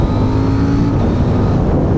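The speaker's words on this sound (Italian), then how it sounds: "Questo motore ha un'erogazione veramente fantastica, è sempre pronto quando vogliamo dar gas" A KTM 790 Duke twin-cylinder motorcycle engine revs loud and close, a steady broadband roar with a brief rising tone, running alone without talk.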